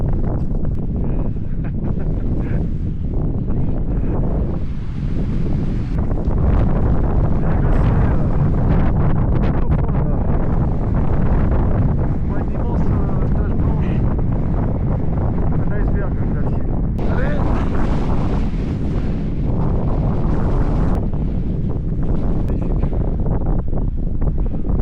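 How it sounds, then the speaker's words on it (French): Strong wind at sea off Newfoundland batters the microphone aboard a boat, a loud, constant roaring gust with waves beneath it and a voice speaking faintly under the rush. "Il fait un vent de dingue."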